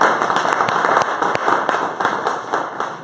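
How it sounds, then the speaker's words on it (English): Audience at a Bitcoin meetup in San Francisco giving a round of applause, dense clapping with sharp individual claps standing out, fairly close and loud throughout. "Get a round of applause."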